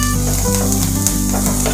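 Vermicelli upma mixture with green chilies being stirred and fried in a pan, giving a steady, loud sizzle with a constant low hum underneath and no speech.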